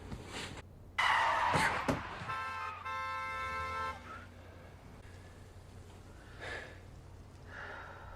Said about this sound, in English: You're probably just noticing the car horns now